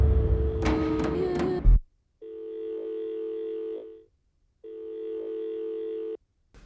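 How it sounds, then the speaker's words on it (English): A stretch-out effect made with iZotope Stutter Edit follows a burst of busy music, as two identical held, buzzy tones each sound for about two seconds with short gaps of silence between them. "Do one of those stretch out effects."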